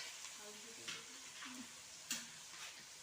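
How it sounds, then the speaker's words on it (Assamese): Ingredients for chicken pulao fry in a pan until reddish, making a faint, steady sizzle with a couple of louder scraping stirs and soft voice-like sounds in the background. "ৰঙা হোৱালৈকে ভাজি থাকিব।"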